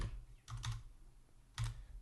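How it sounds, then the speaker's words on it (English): Computer keyboard typing during a coding livestream: a few short bursts of key clicks, close and faint, with pauses between them and no talk. "as the user types, so let's say I'm typing Kelvin's name now"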